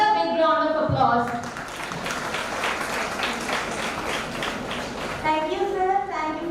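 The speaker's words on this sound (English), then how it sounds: "Let's give our esteemed speaker another big round of applause." Audience at an international brain and disorders symposium breaking into a sustained round of applause, dense clapping for about four seconds between a voice speaking before and after.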